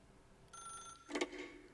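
A telephone ringing in the video game The Stanley Parable: one short electronic ring tone, quiet and brief, followed by a softer, noisier burst.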